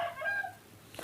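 A chicken clucks close by in a short burst of a few throaty calls, followed by a brief higher squawk near the end, with no talk.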